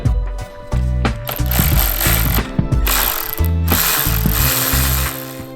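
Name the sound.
ratchet removing 10 mm screws from Ninja ZX-10R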